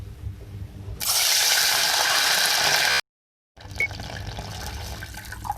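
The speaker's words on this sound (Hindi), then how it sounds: "मैं इसमें पानी ऐड करूंगी 2 कप।" Two cups of water pour steadily into a pan holding cardamom, a loud continuous splashing rush lasting about two seconds before a brief silence and quieter kitchen clatter.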